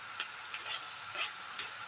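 Finely chopped onion fries in a pan over a high flame with a soft, steady sizzle. Faint ticks of stirring are scattered through it.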